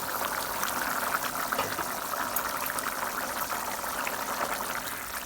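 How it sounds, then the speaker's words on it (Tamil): Vegetables for veg kurma bubbling in a pot, a steady close hiss of boiling water with fine popping, continuous and moderately loud with no voices. "இப்போ காய் நல்லா கொதிச்சிருச்சு."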